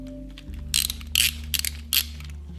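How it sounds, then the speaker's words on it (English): Tightening a bolt on a YZ250 dirt bike brake caliper, heard as several short bursts of ratcheting clicks close to the microphone over a low steady hum. "And now we can just start to tighten that bolt."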